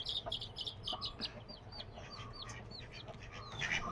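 A hen clucks softly while tending small chicks, with repeated short clucks and a string of high, thin chick peeps close by, fairly faint overall against a quiet background.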